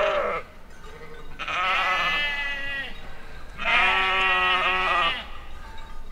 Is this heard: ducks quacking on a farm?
no